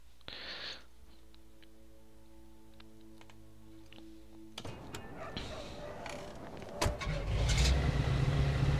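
A car engine in the game Mafia 2 starts after a quiet stretch with faint clicks, then turns over and settles into a rough idle that swells louder toward the end, with no talking.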